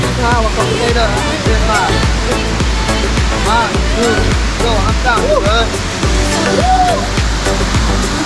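A waterfall at Siquijor roars as a loud, constant broadband rush throughout, with people talking and calling over it.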